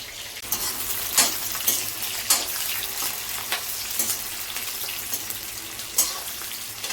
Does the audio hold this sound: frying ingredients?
yes